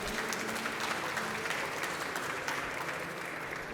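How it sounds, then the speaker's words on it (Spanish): At a book presentation at a book fair in Monterrey, the audience applauds the author with sustained, even clapping. The applause is moderately loud and continuous, with no break through the short span. "les pido un aplauso para ella"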